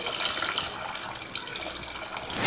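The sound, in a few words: water poured into tamarind kuzhambu in a pan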